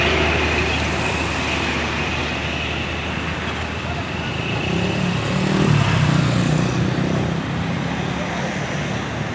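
An empty tank truck on the Bukit Kodok incline gives a steady roadway rumble with engine drone that builds gradually as it climbs, mixed with general traffic noise; a voice talks over it at times.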